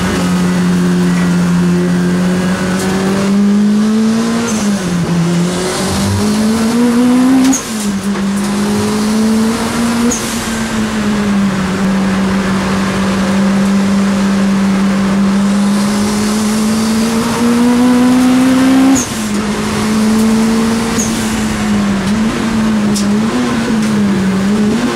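A front-wheel-drive 5ZIGEN Honda Civic race car laps a circuit under braking and cornering, its close, loud engine note rising and falling steadily, with sharp upshifts and drops around two points in the lap.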